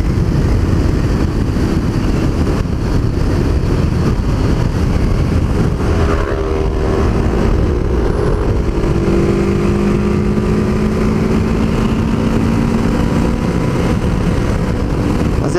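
Motorcycle engines, a Honda CBR 500R, Kawasaki Ninja 400, Yamaha R3 and Kawasaki Z400, accelerating uphill, a loud, continuous roar with rising pitch sweeping upward as the bikes climb.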